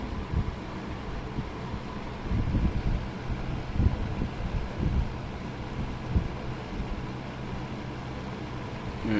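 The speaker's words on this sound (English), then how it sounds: "It's a pretty smooth running fan." Vintage Penncrest model 9721 box fan running on high, a steady low whooshing hum with soft airflow rumble, smooth and even, moderately close and alone.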